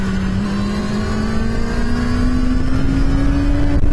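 Kawasaki Ninja ZX-6R 636 motorcycle on a race track, accelerating out of a corner: a loud, steady engine drone whose pitch rises gradually as revs build, continuous and close for the whole stretch, ending abruptly.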